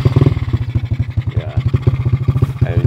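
Locally built motorbike engine, started in first gear, running with a rapid, steady low putter of firing pulses up close, loud and continuous with some mechanical clatter.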